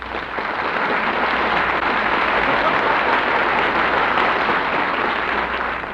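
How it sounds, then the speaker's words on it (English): A studio audience bursts into a continuous ovation for a former star fullback on an old radio drama, a dense wash of clapping holding steady for six seconds with no speech over it. "That applause was for you."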